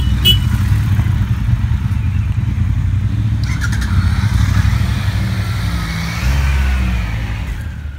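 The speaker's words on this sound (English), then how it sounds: "the plan is to ride another 150 odd kilometers and see what the 2017 Triumph Bonneville Bobber is capable of." A 2017 Triumph Bonneville Bobber motorcycle being ridden, its engine a loud, steady low drone that rises and eases slightly as it pulls along the road.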